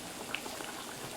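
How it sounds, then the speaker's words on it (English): Eggs cooking in a pan with no oil or fat, a faint, steady bubbling sizzle with a few small pops, quiet and alone. "Now we put our eggs in there."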